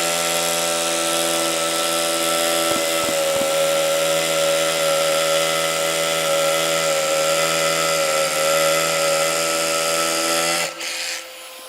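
A Hilti drill bores into concrete with dust extraction running, a loud, steady whine close by that holds for about ten seconds before cutting off abruptly.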